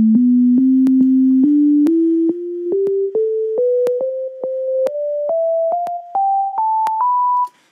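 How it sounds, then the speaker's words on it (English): A steady sine-like test tone steps upward in pitch across eight seconds while a rhythmic series of sharp clicks repeats throughout, demonstrating subtractive EQ cutting frequencies, with no talking. "I'm using subtractive EQ to cut out some of the frequencies so that you can't hear it"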